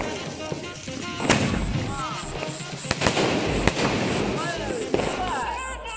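Fancy Niagara firecracker going off on Diwali night, with dense crackling spread throughout and several sharp, loud bangs from nearby and more distant crackers, while voices murmur in the background.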